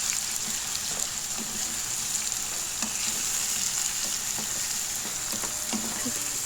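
Gizzard sauce frying in a pan, a soft continuous sizzle with occasional light scrapes and taps of a spoon mixing the food, fairly quiet and close, no voices.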